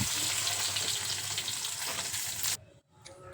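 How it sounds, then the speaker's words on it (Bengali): Potatoes fry in oil with salt and turmeric, a dense, moderately loud sizzle that runs for about two and a half seconds, then drops away abruptly to near silence, with a faint splash at the end. "আলুগুলো লাল লাল করে ভেজে নেব"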